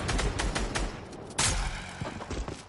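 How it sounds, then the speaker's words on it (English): Rapid bursts of gunfire crack past in an arena shooter game, dense overlapping shots and a sharp louder volley midway, close and continuous with no talking. "There's literally bullets going right over my head."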